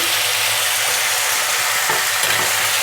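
Curry of sprouted black-eyed peas and potato, seasoned with salt and a pinch of turmeric, is stirred in a pan over a loud, dense, unbroken sizzle, with a soft scrape or two partway through.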